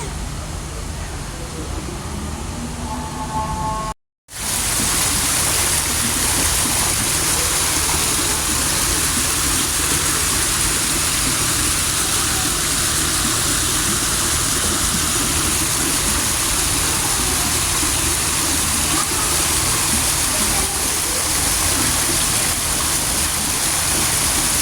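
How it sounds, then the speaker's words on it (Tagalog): Steady rushing water flows loudly and continuously in the Beirut Souk, Lebanon, a broad hiss with a brief cut near the start and voices faintly underneath. "Sarap lang pakinggan ng tubig na umaagos eh."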